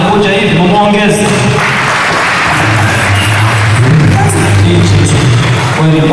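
Applause from guests at a church birthday celebration for a priest in a hall, steady clapping mixed with crowd noise and music-like tones throughout.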